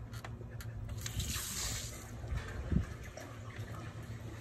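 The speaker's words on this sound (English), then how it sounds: "What we'll do is we'll turn on the water to the pool again." Water rushes through a pool fill and irrigation line right after the supply is turned on, a steady close gushing flow that swells briefly and then settles, with no talk over it.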